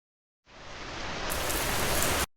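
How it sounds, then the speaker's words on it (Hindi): A heavy rain shower hisses in as a sound effect in an advert for pipes and water tanks, a dense, loud, steady wash that starts abruptly, swells brighter midway and cuts off sharply after about two seconds. "या हो तेज बारिश की बौछार"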